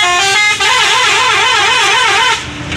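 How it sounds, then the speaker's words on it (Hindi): A truck's musical horn plays a loud, warbling melodic tune right up close on a Pakistani road, a sustained wavering sequence lasting a couple of seconds before cutting off. "ये सुन लें, ये ट्रकों के ऐसे हरन होते हैं"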